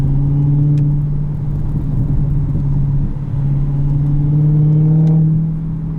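A loud, deep V8 engine of a 2020 Dodge Challenger Hellcat hums in a steady drone on a track, with a low growl that swells slightly as the revs climb.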